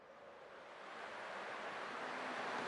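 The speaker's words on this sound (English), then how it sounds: "I can still clearly hear the sound of the waves." Sea waves in the game Honkai: Star Rail wash in as a steady, broad surf hiss that swells gradually louder, with no voices over it.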